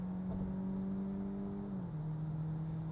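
Engine of a Peugeot 3008 Plug-In Hybrid 1.6 turbo with an eDCS7 gearbox in sport mode, a steady droning hum heard from inside the cabin that drops in pitch as a gear shift between D5 and D4 occurs.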